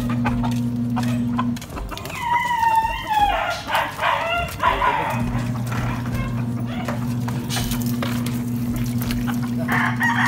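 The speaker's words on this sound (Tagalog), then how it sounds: "paligo muna tayo ng ating alagang manok." A pet chicken crows once during its bath, a loud, close call between stretches of steady mechanical hum.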